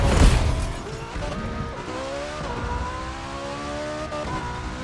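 Hypercar engines whine and rev in The Crew 2 racing game on the final stretch through downtown Miami, with a rising, rolling mechanical drone, shifting pitches and a louder burst at the start.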